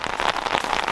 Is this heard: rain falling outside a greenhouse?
yes